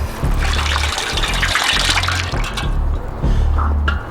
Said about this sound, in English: And outdoor shower with cold water